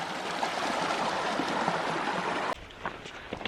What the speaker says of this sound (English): stream crossing that we gotta cross. Might get a little wet